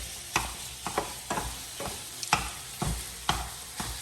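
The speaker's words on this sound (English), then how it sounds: "we are about to start cooking the ground beef" Ground beef browns in a pan under a constant low sizzle, with about eight rhythmic spatula scrapes and pushes at regular intervals, close and clear.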